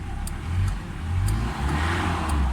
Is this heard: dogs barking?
no